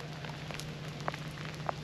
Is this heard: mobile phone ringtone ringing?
no